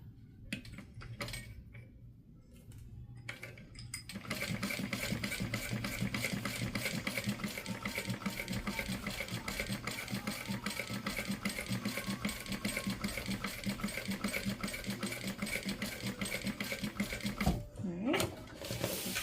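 Sewing machine stitches fabric in a steady, fast mechanical chatter that runs continuously for most of the stretch after a few short start-stop bursts, close and even in level.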